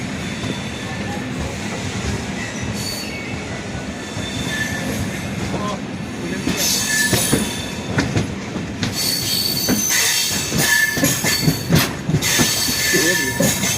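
Amrit Bharat Express with WAP5 electric engines at both ends rounding a curve out of Mayiladuthurai Junction, a steady loud rolling rumble with sharp, repeated wheel squeals and clattering over rails, and a voice talking faintly underneath.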